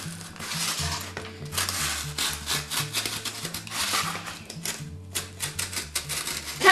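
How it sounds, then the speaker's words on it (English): A craft cutting knife slices through card on a cutting mat, giving repeated scraping, rasping strokes in an uneven rhythm, close and fairly clear, with a low musical backing underneath. "we're going to cut this out with the cutting knife on the cutting mat"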